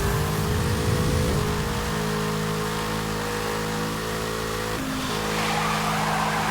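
Continuous engine roar of a car drifting sideways in Need for Speed: Hot Pursuit (2010) during a time-trial race, with steady tone and small pitch shifts as the car slides, loud and close with no voices.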